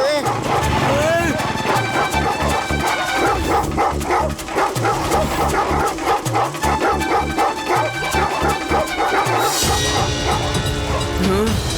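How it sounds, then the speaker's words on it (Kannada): Dogs chasing fleeing characters in an animated children's cartoon bark and yip repeatedly. The barks sound close and excited, mixed with frantic shouting voices and busy background music. "ಅಯ್ಯೋ, ನಾಯಿಗಳು ಬರ್ತವೆ"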